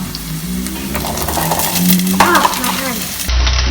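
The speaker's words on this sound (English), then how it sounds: "Put your spatula down here and add your carrots." Carrots tumble into a hot frying pan for chicken adobo and get stirred with a spatula, giving close sizzling with scraping and clattering, a sharper clink midway and a low thump near the end.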